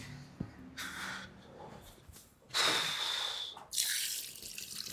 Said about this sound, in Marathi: लगेच तोंडावर पाणी मारून घेतो.